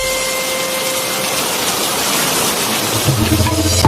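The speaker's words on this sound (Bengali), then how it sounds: "আবার মেঘ ডাকছে আহ, এ বৃষ্টি থামার মতন বৃষ্টি নয়" Heavy rain pours down steadily as a dense, loud wash, with a low rumble of thunder building near the end.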